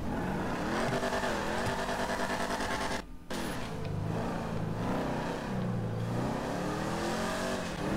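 Engine of a supercar in GTA 5 revs loudly as heard from inside the driver's cabin, a dense continuous drone with rising and falling pitch sweeps, briefly cut by a short gap midway.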